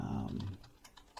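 A computer keyboard clicks with a few scattered, quiet keystrokes after a short burst of talk at the start.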